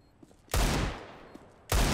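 Two loud, sharp sniper rifle shots crack in a video game, about a second apart. The first rolls off in a long, fading echo before the second hits.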